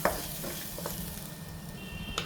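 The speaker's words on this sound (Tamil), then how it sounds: "அதெல்லாம் மொத்தமாக இதை கொட்டி" Boiled fish curry is poured into hot masala in a pan and stirred for a South Indian meen kulambu, giving a steady close sizzle with light scraping stirs and no talking.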